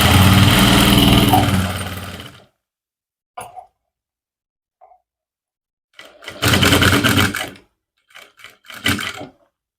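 A sewing machine stitching a trouser, a close, loud run of rapid stitching that stops abruptly, then a few faint clicks and more short bursts of stitching after a silence.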